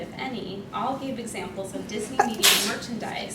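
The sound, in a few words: sneeze in the audience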